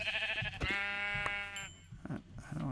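A sheep in a video game bleats when struck, a loud wavering cry with a second bleat after a brief hit sound, followed by soft game noises, with no talking.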